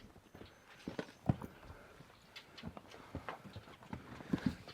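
A Brabant draft horse walks on firm ground, its hooves giving irregular, moderately close clip-clop thuds at a slow pace with faint outdoor background.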